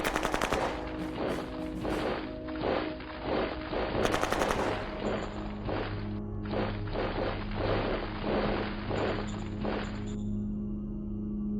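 Rapid machine-gun bursts from the strategy war game Shadow Empire, loud, dense and repeated at close range, with brief breaks between volleys and no voices.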